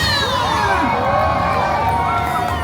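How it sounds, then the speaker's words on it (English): Crowd at a Cedar Point amusement park show during Halloweekends cheering and shouting steadily, a loud dense mix of voices including children's high whoops, with a host's voice faintly mixed in. "Give him a cheer!"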